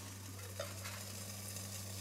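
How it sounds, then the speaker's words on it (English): Water just beginning to boil on a homemade alcohol stove gives a faint, steady bubbling sizzle over a low background hum. "Yep, it's just barely boiling."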